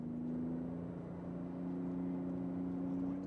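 Porsche 911 GT2 RS engine under light throttle, a steady low droning hum with a couple of sustained tonal lines, holding fairly even without clear revving through the short stretch.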